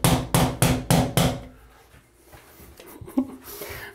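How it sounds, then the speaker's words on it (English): A hammer taps plastic parts against tile during a shower glass door installation: five sharp, loud, evenly spaced strikes, followed by quieter handling noises and faint knocks. "this is a perfect hammer for putting plastic things up against tile"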